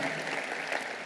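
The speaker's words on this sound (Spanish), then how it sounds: "Démosle un aplauso a Dios por eso." A church congregation applauds during a sermon in a brief, steady burst of clapping that sounds fairly soft and distant.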